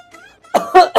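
A young child coughs in two or three harsh, close bursts after a moment of quiet with a faint tonal background.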